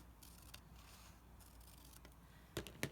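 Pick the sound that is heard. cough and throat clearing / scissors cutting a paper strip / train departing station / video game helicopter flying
scissors cutting a paper strip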